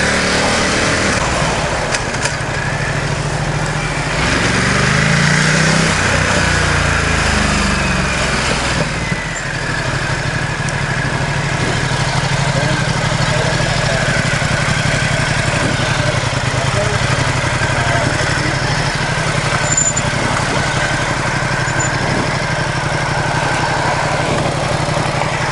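A Ducati XDiavel motorcycle engine drones steadily on a test ride, a loud continuous hum with wind rush, briefly swelling in pitch early on.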